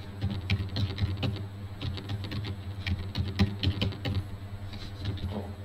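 Computer keyboard typing in quick, continuous runs of close key clicks with a steady low hum underneath, no voices over it.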